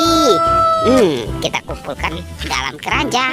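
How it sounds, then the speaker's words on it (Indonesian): A toy rooster lets out two short, bright mechanical crows up close, and then a person talks over it in a lively voice. "Ini ada ayam berkokok."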